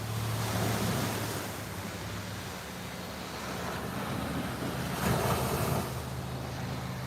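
Ocean waves break on a shore at sunrise, a soft continuous wash of surf with wind noise, swelling into a brighter surge of breaking water toward the end.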